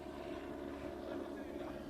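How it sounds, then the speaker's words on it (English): Steady low rotor drone of a helicopter flying over a rally stage on Tronqueira at the Azores Rallye, a continuous distant hum. "Helicopter is up, but I got a feeling it'll just be up."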